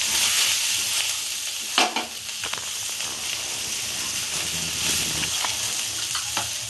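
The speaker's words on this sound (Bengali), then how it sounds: "পেঁয়াজটা হয়ে গেছে, আমি এবার নিউট্রিলাগুলোকে দিয়ে দেবো।" Soya chunks go into a pan of frying onions for a Bengali-style soybean and spinach curry, giving a steady close sizzle with a scrape or clatter near two seconds and light stirring scrapes throughout, no talk.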